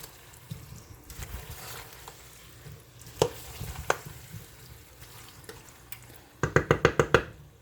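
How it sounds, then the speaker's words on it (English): Potatoes, onions and celery are stirred in a pot of butter with scraping, clacking spoon strokes over a soft sizzle, ending in a quick run of rhythmic knocks against the pan. "I'm just letting the potatoes absorb the butter, mixing up the onions and the celery together"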